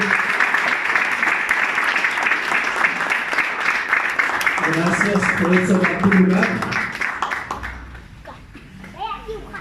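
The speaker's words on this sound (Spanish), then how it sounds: "Dale un aplauso a Jesús. Hazlo fuerte" A church congregation applauds during a Sunday morning service. Brisk, steady clapping from many people runs for several seconds while someone speaks over it, then fades out, with a few voices after.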